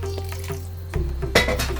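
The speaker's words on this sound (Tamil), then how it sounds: "ஒரு 2 டம்ளர் தண்ணி சேர்க்குறேன்." About two tumblers of water are poured into a cooking pot of white pumpkin and lentil stew, starting with a low trickle and then a louder, splashing gush that runs to the end.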